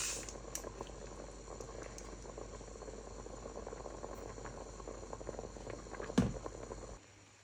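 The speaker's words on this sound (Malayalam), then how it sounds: "വെള്ളം നല്ലോണം തിളയ്ക്കുന്നുണ്ട്" A pot of water with ghee at a strong rolling boil while cooking turkey biriyani, a steady low bubbling roar throughout, with a sharp clink near the end before it cuts off.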